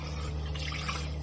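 Tap water runs steadily into a sink during bathroom cleaning, a constant close rush of splashing flow for the whole moment with no talking.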